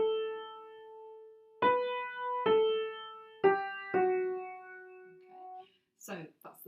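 A keyboard plays the third line of the Polovtsian Dance: a held note followed by four struck notes, each ringing and decaying, then a brief thump.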